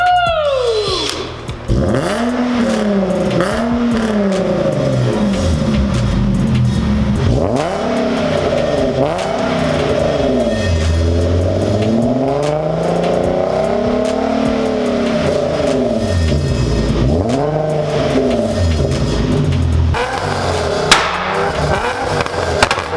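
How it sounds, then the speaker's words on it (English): A Nissan 370Z engine runs close and loud right after a long tube header install, revving up and falling back in repeated swells over a steady idle, with no talk. "All right, now we started the vehicle."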